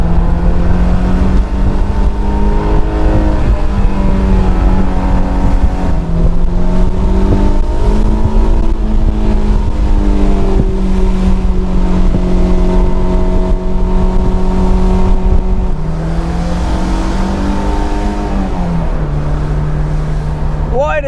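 Honda S2000 engine held at high revs, a loud, continuous buzzing drone whose pitch rises and falls repeatedly with the throttle, easing down briefly near the end before climbing again, with a voice speaking over it.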